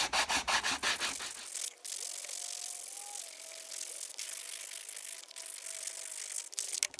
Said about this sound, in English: So just the sandpaper along the edge will make that nice and straight